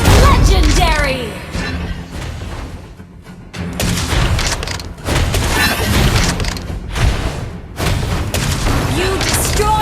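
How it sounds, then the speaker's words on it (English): Mobile Legends game audio with booming explosions as a turret is destroyed, loud layered blasts and impacts mixed with an announcer-style game voice and busy battle effects. "You destroyed a turret!"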